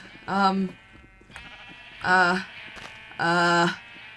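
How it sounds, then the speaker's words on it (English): Three loud, harmonic sheep bleats from a flock in a video game, in succession, separated by short pauses, over a faint steady hum. "Can you guys hear that? That sounds like quite a lot of sheep."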